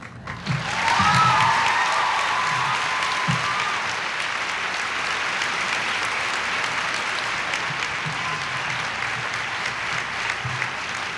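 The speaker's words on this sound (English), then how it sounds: "you clap more for Ferris than you clap for George" A large audience at a talk about America's first ladies breaks into sustained applause, a dense wash of many hands clapping that swells quickly and holds steady for around eleven seconds with faint crowd murmur beneath.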